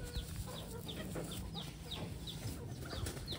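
A gamecock rooster clucks in a regular series of short, sharp calls about every half second, close by and moderately loud over steady background noise.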